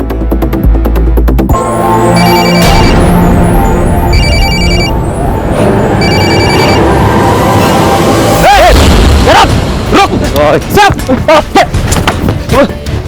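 A telephone rings in a police crime drama scene after a number is dialed: three short, bright ring bursts at regular intervals, loud and near, under a dramatic music bed that swells into deep booms afterward.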